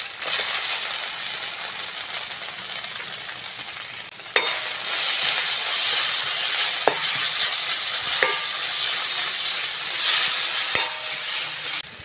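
Onion and ginger-garlic paste frying in hot oil for a chop filling, a loud, even sizzle throughout, broken by a few sharp clinks of a utensil against the pan.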